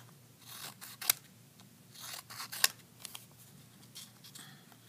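Scissors snipping through paper: a few crisp cuts with sharp snaps, close and fairly quiet, alone with faint rustling between them.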